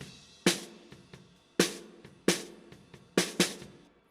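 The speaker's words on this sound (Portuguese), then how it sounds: "esse é um som de esteira." A snare drum played with the snare wires engaged, recorded for a mixing demonstration. Sharp, close hits come at an uneven pace, each followed by a buzzing rattle of the wires, with softer ghost taps between the accents.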